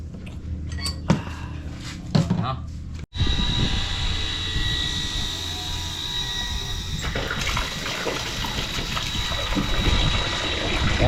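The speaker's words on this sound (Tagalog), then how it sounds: "lumukas na yung tubig. Booster pump ang ginamit natin." A booster pump pumping water at a finished building project, a loud, steady mechanical hum and rush of flowing water that starts suddenly after some clatter and runs continuously.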